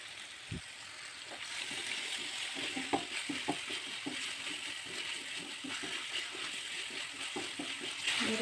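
Spice paste for a shredded tuna (tongkol) pastry filling fries in a pan, giving a quiet, steady sizzle with scattered small crackles and pops throughout, with no talking.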